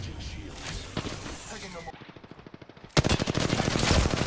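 Rapid automatic gunfire from a rival squad in the Apex Legends video game, bursts of sharp shots that grow louder and denser toward the end, with talk over the action.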